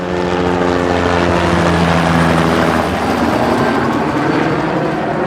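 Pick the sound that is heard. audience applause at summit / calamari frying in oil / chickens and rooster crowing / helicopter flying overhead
helicopter flying overhead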